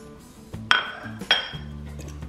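A fork works butter into a dry mixture in a bowl for cranberry walnut bars: soft scraping and pressing, then two sharp metallic clinks of the fork against the bowl, close and quiet with no talk.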